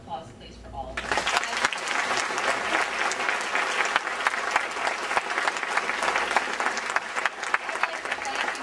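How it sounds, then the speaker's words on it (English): Loud sustained applause from a large crowd at a Student of the Year awards evening, starting abruptly after a brief quiet moment and continuing steadily with dense clapping throughout. "Round of applause, please, for all of them."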